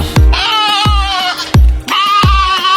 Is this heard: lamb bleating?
yes